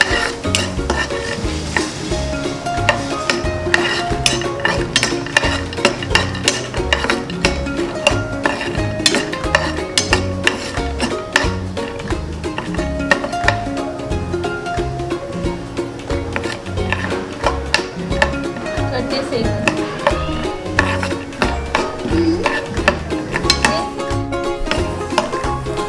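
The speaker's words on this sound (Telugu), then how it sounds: "టేబుల్ స్పూన్ పల్లీలు, 4 జీడిపప్పు వేసి బాగా దోరగా వచ్చేలా వేయించుకోవాలి." Peanuts and cashews fry in a pan for mango pulihora, with a continuous loud sizzle and crackle, steady stirring scrapes and occasional clinks of the spoon against the pan throughout.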